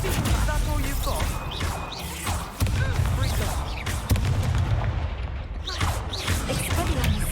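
Incendio fire spell cast during combat in the video game Hogwarts Legacy, with repeated bursts, whooshes and impacts layered over busy battle noise for several seconds; game voices are heard among the effects.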